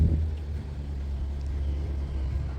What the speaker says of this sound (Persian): یه کوچولو سر و صدای این ماشینای سنگین میاد